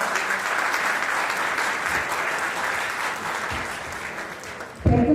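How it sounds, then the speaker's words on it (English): A conference audience applauds steadily, a dense wash of many hands clapping from start to finish in a large hall, with a brief louder thump near the end. "I request all the audience, please give a huge round of applause to Dr. Tabassum."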